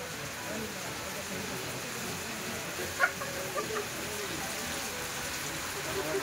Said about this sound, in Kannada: ಎಲ್ಲ ಫುಲ್ ಹೆವಿ ಮಳೆ